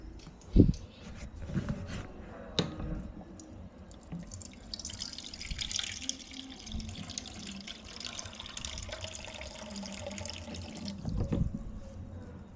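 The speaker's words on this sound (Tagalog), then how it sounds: "Sagyan natin ng tubig" Water pours into a pot of chicken liver and gizzard adobo with a steady splashing rush after a couple of clanks, continuing for several seconds at close range.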